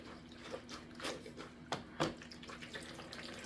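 O-Cedar EasyWring spin mop dipped into a bucket of water, giving soft sloshes and splashes with a couple of sharper wet slaps around the middle, quiet and close.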